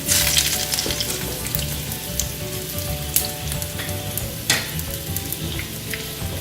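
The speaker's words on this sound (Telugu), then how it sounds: "వెల్లుల్లిపాయలు కాస్త వేగే వరకు ఉంచాలి." Garlic and curry leaves fry in hot oil for a dhaba-style methi dal, a loud, continuous crackling sizzle up close with a few brief pops and stirring clicks, and no talking.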